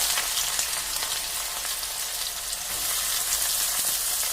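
Bitter gourd frying in hot oil with spluttered mustard seeds, giving a dense, steady crackling sizzle heard close and alone, with faint stirring beneath.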